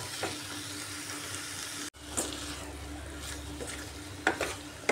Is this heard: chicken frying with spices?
yes